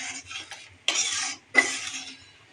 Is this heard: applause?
no